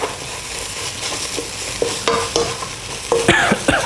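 Northern Thai beef curry chili paste fries and sizzles in a nearly scorching pot, with repeated scraping stirs as the spoon works the paste, close and steady.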